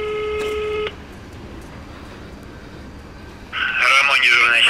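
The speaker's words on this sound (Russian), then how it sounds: "Звоню в дежурную часть, оставить заявление." A phone handset beeps with a dial tone to a police duty station, then goes quiet before a burst of louder electronic tones near the end, with someone speaking briefly.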